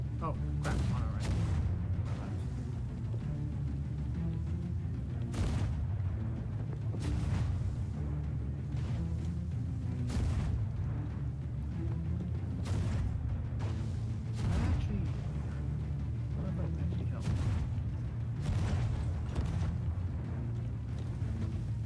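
Heavy triple guns fire in a video game, a steady series of deep booming blasts repeating roughly every couple of seconds over a continuous low rumble, loud and close throughout.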